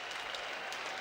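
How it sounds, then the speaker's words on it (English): Baseball fans near the Red Sox dugout at Fenway Park applaud during a 1997 extra-inning game against the Mariners, a steady, dense wash of clapping that holds evenly through the short moment with no talk. "Avery gets a nice round of applause from the fans around the Red Sox dugout."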